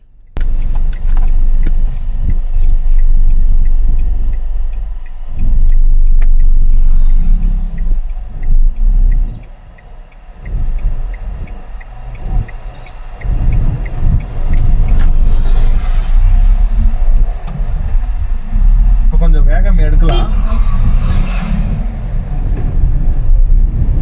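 A car drives over a speed breaker on a road, with loud continuous engine and road rumble up close and a few heavier thumps and jolts as the wheels cross the bump, heard from inside the cabin.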